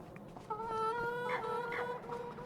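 A chicken in Farming Simulator 25 gives a drawn-out, close clucking call that lasts about two seconds over faint ambient farm noise.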